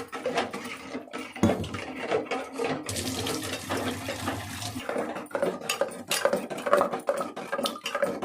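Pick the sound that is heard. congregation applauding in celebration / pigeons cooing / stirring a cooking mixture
stirring a cooking mixture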